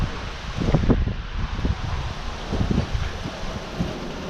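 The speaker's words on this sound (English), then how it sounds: "I don't think this wind is severe yet." Strong storm wind gusting in bursts against the microphone, producing loud buffeting rumbles that rise and fall over a constant rushing background.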